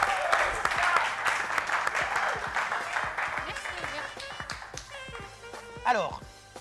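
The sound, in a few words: audience applause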